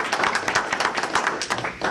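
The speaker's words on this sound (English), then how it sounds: "I would like you to join me in a round of applause to show our appreciation." An audience at a gyroplane seminar meeting gives the guests a round of applause, with dense, steady clapping from many hands filling the room close by.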